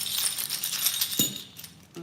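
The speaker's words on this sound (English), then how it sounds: "everything is nice and shuffled in here" Bones and small trinkets are shuffled together before a bone casting, giving a soft, continuous clattering rattle close by, with a small knock near the end.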